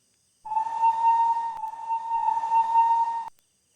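A long, shrill whistle echoes from inside a tunnel, blowing steadily for about three seconds with a hissy edge, then cuts off abruptly.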